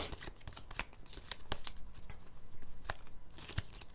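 A deck of tarot cards is shuffled close by: quick, crisp riffles and papery slaps come in uneven bursts, fairly quiet and with no talking.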